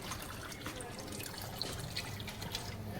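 Water being poured into a pot of beef biryani, a faint trickling and splashing under light background noise.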